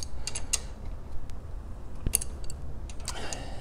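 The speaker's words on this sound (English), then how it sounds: "I'll just use my 3/8 inch extension and a adjustable wrench to remove that." A 3/8 inch extension and adjustable wrench working loose an oil drain fitting on a John Deere, with a few faint metallic clicks and creaks scattered through a quiet stretch, no talking.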